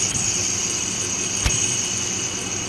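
A worn alternator bearing in a Nissan Almera engine bay gives a steady high-pitched whine over a low engine hum, close and continuous, with one brief knock partway through.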